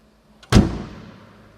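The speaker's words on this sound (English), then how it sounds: "I will close the door once more" The door of a restored Mercedes-Benz 280 SL Pagoda shuts once with a solid, close thud that fades away briefly, heard alone.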